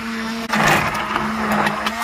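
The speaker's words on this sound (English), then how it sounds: "Give it a whirl with the stick blender." Stick blender whirring through potato and leek soup, a brief close buzzing burst that starts abruptly and holds with slight wavering for about two seconds, no talk.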